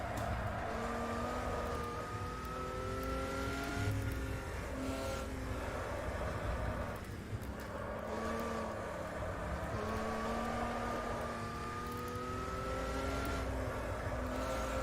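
An Opala Stock 86 race car engine held in third gear at Estoril drones steadily at low revs, with its pitch rising and falling as it accelerates and lifts along the circuit, loud and continuous throughout.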